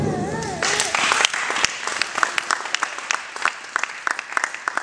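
A church congregation breaks into loud applause after a brief voice, the clapping swelling dense and then thinning into scattered sharp claps.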